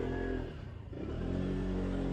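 A motorcycle passes by, its engine drone dipping briefly and then swelling loud and steady.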